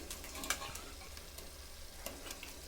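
A spoon stirs thick fish curry masala in a pan with a soft sizzle, faint scraping strokes and a couple of sharper clinks, close and quiet with no talking.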